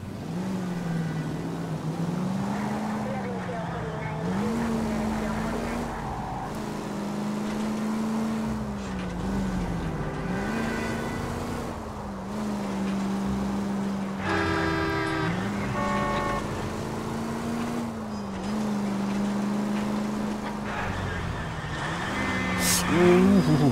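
Car engine in the L.A. Noire video game, a steady mid-pitched drone rising and falling with repeated revs, with a horn-like toot near the middle and a bright tone at the end, under music and talk.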